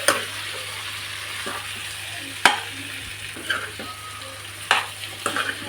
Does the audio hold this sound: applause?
no